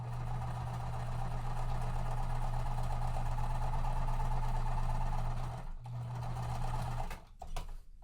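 Close, steady whirring drone of a sewing machine stitching quilt pieces for a Flyway Puzzle mystery quilt, running continuously, pausing briefly, then resuming before stopping with a few clicks.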